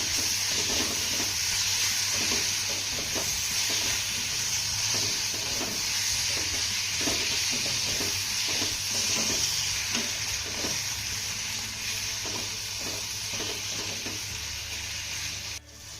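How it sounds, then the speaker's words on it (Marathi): Crushed drumstick pulp is stir-fried with spices in a pan. A steady, loud sizzle and hiss runs throughout, with a continuous patter of spatula strokes, and no voices are heard. "हे सर्व साहित्य आपल्याला दोन मिनटं छान असं परतून घ्यायचं आहे"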